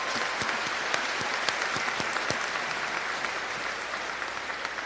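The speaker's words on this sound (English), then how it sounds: "One more round of applause for them" A crowd at the Nikki Rowe High School 2024 graduation in McAllen applauds graduates who are enlisting in the military, with dense, sustained clapping that stays steady for the whole stretch and sharp individual claps standing out near the front.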